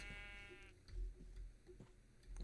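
A Minecraft sheep bleats once at the start, a clear harmonic baa lasting under a second, followed by quieter in-game clicks and low rumbles.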